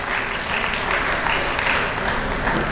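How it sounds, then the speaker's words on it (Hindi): Steady audience applause fills a certificate distribution ceremony at an education and technical centre, a dense continuous clatter of many hands held at an even level throughout with no voice on top. "आप ताली से उस साहब को एक बार सम्मान किया जा रहा"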